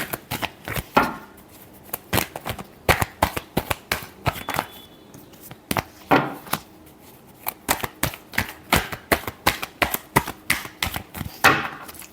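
Playing cards are shuffled again and again in sharp riffling bursts, each a quick flurry of crisp snaps close to the microphone, with short pauses between rounds.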